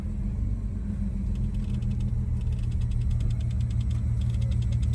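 An old abandoned Mercedes, freshly fitted with a swapped carburetor, drives down the road in a low gear, a loud steady engine rumble with faint rattling mechanical ticks layered on top, no speech.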